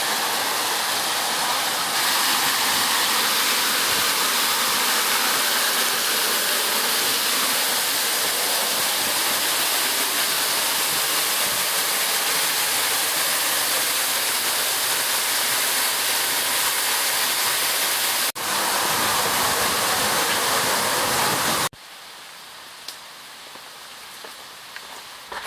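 Water pouring down in a steady, loud, hissing shower along a levada trail on Madeira, constant for about twenty seconds before cutting off to near quiet.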